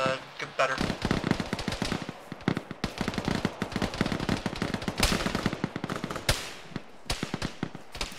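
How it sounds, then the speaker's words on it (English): Heavy, sustained machine-gun and rifle fire in the ShackTac military game, rapid close cracks with louder single bangs punctuating the stream, and voices faintly mixed in beneath. "Why are they shooting at me?"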